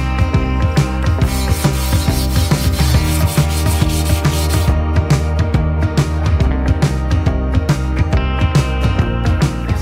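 Rust being sanded off an old agricultural water tank with a power sander, a loud, continuous close-up grinding drone that holds steady throughout.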